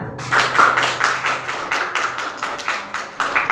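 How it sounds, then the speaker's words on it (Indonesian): Schoolchildren in a classroom clap their hands together at a teacher's prompt, a quick burst of uneven claps and taps, close and fairly loud, fading into scattered claps toward the end. "Ayo tepuk tangan"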